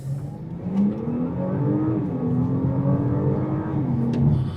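A 2025 Audi S5 (B10) engine pulling slowly back onto the road after mild off-roading, a steady close engine drone with gently rising and falling pitch and no talk.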